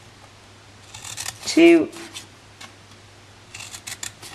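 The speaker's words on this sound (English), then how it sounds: "we are going to cut up these lines along the bottom" Scissors cutting card stock along scored lines for a gift bag, a sharp close snip standing out between short bits of speech, with a few fainter snips later.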